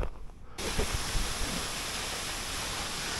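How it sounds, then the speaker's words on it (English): Waterfall beside a hiking trail, a steady broadband rush of falling water that starts abruptly and continues evenly, with a few faint knocks at the start. "So there's a waterfall on the trail"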